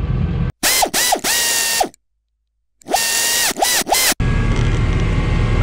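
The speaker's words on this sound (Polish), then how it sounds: "I teraz posłuchajcie, jak fajnie zaciąga ręczny hamulec." The handbrake ratchet of a Case IH Puma 200 CVX tractor clicks loudly in two quick bursts of rapid metallic ratcheting, separated by a brief silence, with engine rumble before and after.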